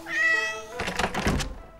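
A cartoon cat gives one long, clear, close meow, followed by a few soft thumps and knocks with no talking.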